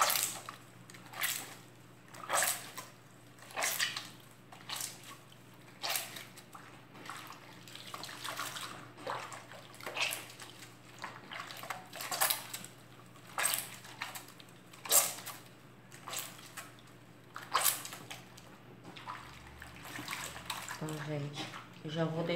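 A table-cleaning cloth soaked and swished in homemade liquid soap made from cooking oil, giving repeated close sloshing surges of water in a steady rhythm, with a faint voice now and then.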